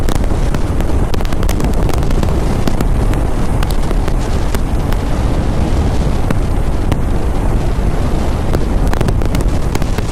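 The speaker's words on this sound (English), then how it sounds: "It's pretty windy. It's supposed to be 42 km/h gusts." Strong, roaring wind gusting to about 42 km/h buffets the microphone without pause, with rough low rumbling and gusty bursts throughout and no voices.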